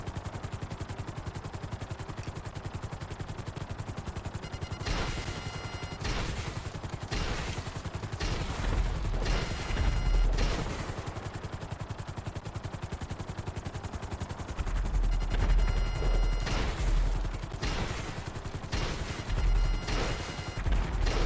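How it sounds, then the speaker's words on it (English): Rapid barrage of missile explosions in GTA 5 Online, dense and loud, with heavy low booms stacking into continuous blasts and gunfire-like crackle throughout, no talking. "Let the missile spam begin."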